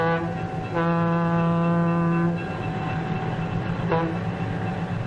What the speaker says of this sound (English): The huge locomotive sets the train in motion, slowly at first.